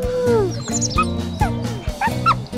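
Wolf pups in the WolfQuest video game give repeated high, squeaky yips and whimpers, about five short bursts at a steady pace over a constant low game background hum.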